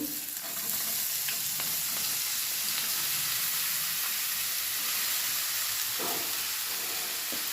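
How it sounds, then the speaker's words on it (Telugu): Pieces of ridge gourd sizzling in hot tempering oil in a pan, a steady loud frying hiss with occasional stirring clatter and no talk. "ఇప్పుడు మనం కట్ చేసి పెట్టుకున్న పొళ్ళకాయ ముక్కలు వేస్తున్నాను"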